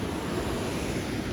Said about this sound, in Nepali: झरनाको अगाडि बसेर